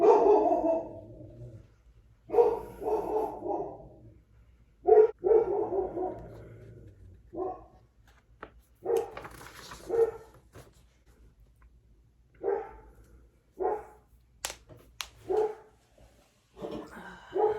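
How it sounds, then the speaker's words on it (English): A dog barks in short, separate bursts with pauses between, fairly close, some barks softer and whiny. "Till the dog stops barking."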